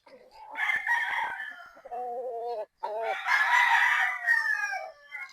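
A three-year-old Boston Gilmore gamefowl rooster clucks in short bursts, then lets out a clear crow, near and fairly loud, followed by more clucking and agitated calls with no talk over it.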